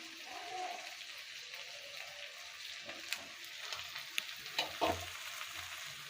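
Chopped onion and two dried red chillies fry in hot oil in a village-style kitchen, a steady soft sizzle with a few sharper crackles and pops near the end, close and without talk.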